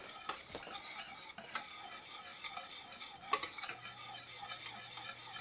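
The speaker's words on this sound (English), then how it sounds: "Oh, that's boiling up really nice." Thick butterscotch pie filling bubbles in a pot while a spoon stirs and scrapes against it, close and fairly quiet, with occasional knocks against the pot and no voices.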